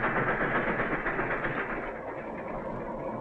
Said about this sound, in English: a long freight train, cattle cars, empty coal cars, and a powerful steam engine.